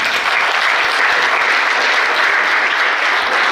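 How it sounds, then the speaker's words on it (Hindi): An audience at a career counselling programme applauds the teachers with dense, continuous clapping that stays loud and even from start to finish. "सब टीचर्स के लिए ताली बजाएं"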